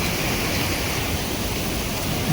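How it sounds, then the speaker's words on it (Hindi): A waterfall in Jim Corbett National Park roars steadily and loudly, a dense, unbroken broadband rush of falling water with no voices. "भरे पड़े हैं ऐसे झरने यहाँ पे"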